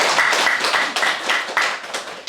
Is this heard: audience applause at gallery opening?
yes